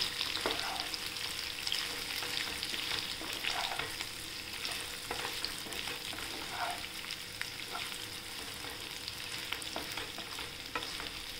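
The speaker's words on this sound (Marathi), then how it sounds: "आपण आता तेलात खरपूस होऊन परतून घ्यायची" Potatoes fry in oil in a pan for a fasting-style potato dish, giving a steady close sizzle with repeated scrapes of stirring throughout, no voices.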